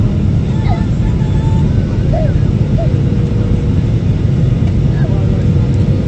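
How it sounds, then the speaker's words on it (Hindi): Steady, loud cabin roar of an airliner descending toward landing in Dubai, a continuous low engine and airflow rumble filling the whole stretch with faint intermittent higher tones above it. "और हम तसल्ली से इस वक्त नीचे की तरफ लैंडिंग की पोजीशन पे जा रहे हैं।"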